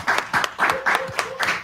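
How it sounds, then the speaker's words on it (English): Short burst of applause with a steady patter of clapping hands, fairly close and lively, with a faint voice mixed in. "Round of applause, please"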